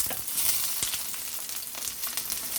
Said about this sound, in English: Let that saute a bit